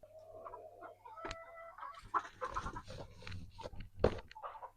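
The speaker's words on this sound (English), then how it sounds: "These chickens are about to go crazy with me coming in here." Backyard chickens clucking inside a dusty coop, a scattered run of short clucks and squawks from several birds, fairly close and growing busier partway through.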